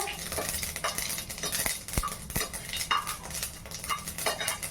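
Mustard seeds frying and crackling in a pan while South Indian food is cooked, with a utensil scraping and clinking against the pan and sharp pops over a steady sizzle.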